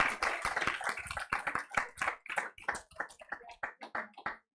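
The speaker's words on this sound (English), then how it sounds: "let's give a big round of applause to our speakers" A small audience applauds the speakers at a startup panel event on cross-generational family founding. The claps are sparse and distinct, with an uneven rhythm, fairly close and moderately loud.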